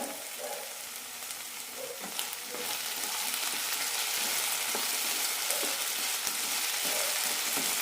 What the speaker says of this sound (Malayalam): മീഡിയം ഫ്ലെയിമിലിട്ട് നന്നായി റോസ്റ്റ് ചെയ്തെടുക്കണം